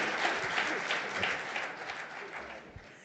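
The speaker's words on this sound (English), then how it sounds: "please extend a warm round of applause for our panelists" Audience applause for a conference panel, a steady wash of many hands clapping that holds evenly and fades slightly toward the end.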